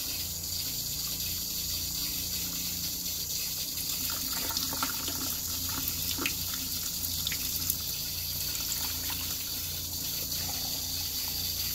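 A tap runs hot water in a steady, hissing gush, continuous and close, with faint clinks now and then and no voices.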